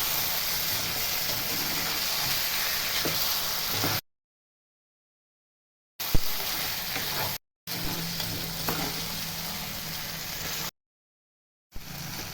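Fish sizzles steadily while being sautéed in a pan for a Tamil fish kurma, a continuous crackling fry broken by a few abrupt silent gaps, with occasional scraping stirs.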